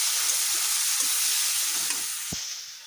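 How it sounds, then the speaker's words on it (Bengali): Red amaranth greens go into hot oil in a pan and fry with a loud, steady sizzle and hiss that stays constant throughout, with a faint clack of a utensil near the end. "শাকটা দিয়ে দিলাম তেলের উপরে।"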